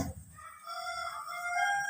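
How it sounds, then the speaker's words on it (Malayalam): A rooster crows once, a long drawn-out call held close and fairly loud, with no talking. "കോഴിയുടെ കരച്ചിൽ കേൾക്കാറുണ്ട്."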